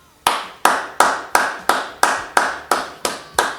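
Nine sharp, evenly spaced hand claps ring out in a steady, brisk rhythm, close and loud, sounding like one person clapping deliberately in tribute at the end of a retirement speech.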